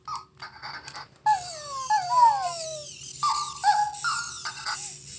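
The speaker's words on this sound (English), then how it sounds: "I love my little puppy." A small puppy gives a string of high, thin whimpers and drawn-out sliding howls, several cries in close succession against a quiet indoor background.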